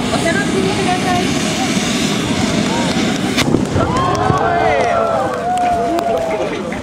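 Large five-kin hand-held tezutsu fireworks at the 2010 Tatebayashi Tezutsu Fireworks Festival, a continuous loud roaring, hissing spray with crackling bursts, heard over a crowd and a public-address announcer in the rain.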